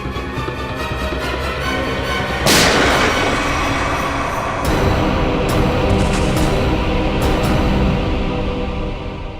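Gunshots in a TV crime drama ring out as a sudden loud blast followed by several sharp, echoing reports spaced over the following seconds, amid a dense, noisy background.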